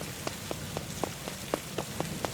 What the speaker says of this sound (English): The cold rain is drenching my clothes